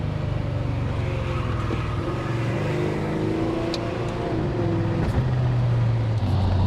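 A Porsche 928S V8 engine hums steadily from inside the cabin, its pitch climbing and dipping gently under light throttle, with continuous road noise.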